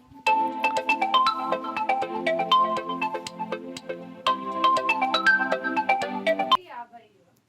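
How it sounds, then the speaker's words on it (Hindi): A mobile phone rings in a classroom setting, playing a melodic electronic ringtone of quick repeated notes for several seconds before it cuts off abruptly. "फोन डिस्टर्ब कर देता है जी।"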